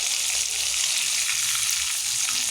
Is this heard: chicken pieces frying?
yes